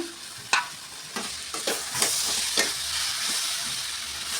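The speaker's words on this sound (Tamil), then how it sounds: "நல்லா கலந்து விட்டுட்டு நம்ம வேக வச்சுருந்த உருளைக்கிழங்கையும் உருளைக்கிழங்கையும் ஆட் பண்ணிக்கலாம்" Boiled potatoes being stirred into a turmeric masala in a pan: sharp spoon knocks and scrapes against the metal recur over a steady, hissing fry.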